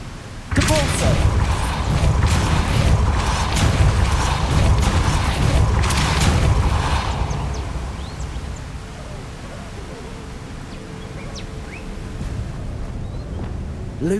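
A Depulso spell in Hogwarts Legacy lets off a loud, sustained booming blast with rumbling, crackling debris for several seconds, then decays into a quieter ambient hum.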